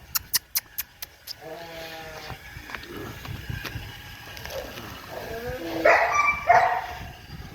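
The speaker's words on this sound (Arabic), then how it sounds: "دي كلبة رويال بلاك" A Royal Black dog barks in a quick run of sharp, loud barks, then gives lower growling, whining vocalizations with some background noise.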